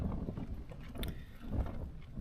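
Strong wind buffets a tent on a remote mountain top, rumbling gusts and flapping bursts close to the microphone.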